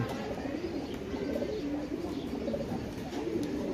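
Several khoira gola (brown-necked) pigeons coo in low, repeated rolling calls, close by and steady throughout, with a dense murmur of more birds behind them.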